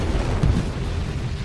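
An oxygen-based bomb of the Lemurians explodes as one low, deep boom that swells briefly within a constant heavy rumble, loud and close, with no voices.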